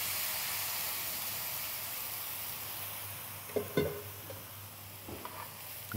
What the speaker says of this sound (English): Now we add the sauce mixture to the pan.